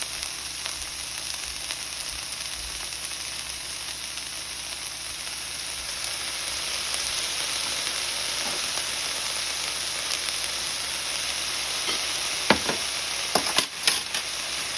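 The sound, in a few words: stir-frying food with soy sauce in a pan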